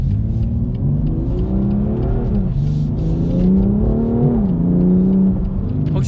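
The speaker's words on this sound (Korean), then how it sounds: "지금은 악셀을 한번 급히 밟아봤는데 타이어가 예열이 되어 있지 않는 상황이라서 슬립이 일어나기 직전까지 바로 반응을 합니다" A 2019 BMW M2 Competition engine revs hard under sharp acceleration on cold tires, the note climbing in pitch, briefly dipping at a gear change, then rising again, loud and close with no talk.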